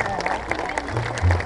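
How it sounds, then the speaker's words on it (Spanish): A crowd applauds at a jaripeo bull-riding event, a dense, steady wash of clapping mixed with crowd noise that swells slightly near the end. "el aplauso, mi gente, el aplauso"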